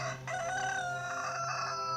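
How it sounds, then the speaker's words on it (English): A rooster crowing once in a long, drawn-out call over a steady low hum, moderately distant and alone without talk. "And immediately the cock crew."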